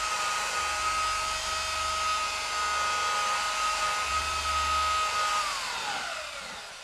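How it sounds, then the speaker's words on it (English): Steady high whine of a car paint polisher with its pad spinning against a screwdriver to clear dried compound, a sustained motor tone that holds loud, then winds down and drops in pitch near the end. "Sometimes the compound dries up on the pad, and they sell a thing that goes on it there and it takes the compound off"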